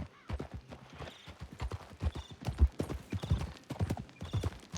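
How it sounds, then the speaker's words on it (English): A tiny horse trots in Red Dead Redemption 2, its hooves clip-clopping in a quick, even rhythm on the ground. The hoofbeats are close and clear, with a faint whinny-like texture and no talking. "It's a tiny horse."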